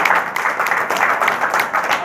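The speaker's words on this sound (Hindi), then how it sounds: "एक बार जोरदार तालियों से उनका स्वागत करेंगे" Hearty applause from an audience at a gathering welcomes a guest, a steady dense patter of many hands clapping at close range for a couple of seconds.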